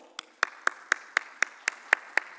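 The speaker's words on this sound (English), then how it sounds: "Please put your hands together to welcome Mr. Raj Bhogal" Scattered handclaps from a small audience at a pharmacovigilance conference session in Dubai, about nine distinct sharp claps at a steady, unhurried pace, each clearly separated, with no voices over them.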